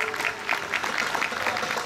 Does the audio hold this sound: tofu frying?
no